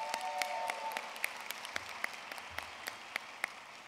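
Conference audience applauding during a presidential address at a NACADA advising association event: a fairly distant wash of clapping hands with scattered sharper individual claps standing out, steady throughout with no voices.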